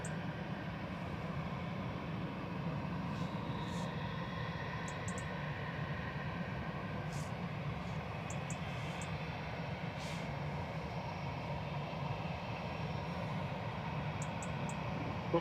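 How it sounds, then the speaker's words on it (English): An Aer Lingus Airbus A320 jet airliner returning to Dublin, heard from a spotting spot at Manchester Airport as a steady broadband engine roar that holds at a constant level throughout, with no talking. "This is Aer Lingus 203 returning to Dublin, A320 Classic EI Deviant."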